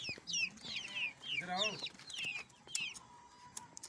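Healthy, active chicks chirp and cluck close by in quick bursts, with a fuller clucking call in the middle, while a voice speaks faintly underneath.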